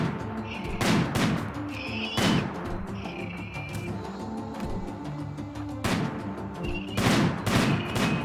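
Bursts of gunfire in RimWorld with a Wendigos mod, several loud volleys of shots in quick clusters spread across the stretch, with game sounds between them.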